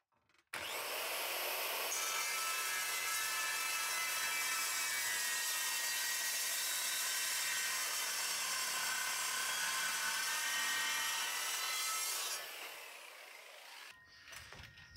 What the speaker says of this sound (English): pretty straight cut, and it's nice and cold. I like this saw a lot better than the abrasive saw that I was using.